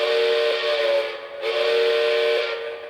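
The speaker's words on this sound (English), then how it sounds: "So if I apply the whistle," A Lionel Legacy model steam locomotive sounds its whistle, a steady, breathy tonal blast over hissing steam, sustained and fairly loud and near, with a brief dip in the middle before it continues.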